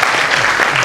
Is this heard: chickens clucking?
no